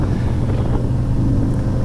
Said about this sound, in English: it's got a 114 Milwaukee engine, this one, and it definitely has got some pep